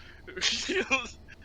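A single sharp human sneeze, close and loud, lasting about a second with a breathy burst.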